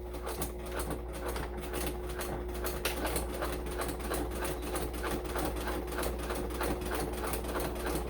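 A sewing machine runs steadily while stitching a bag, its rapid needle clatter repeating in a quick even rhythm under a low motor hum, close and fairly quiet with no talk.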